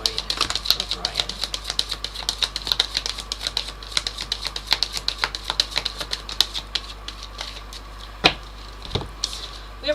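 Tarot cards shuffled close to the microphone during a live reading, a long run of rapid crisp flicks and taps with a few sharper slaps near the end, while a low hum runs underneath.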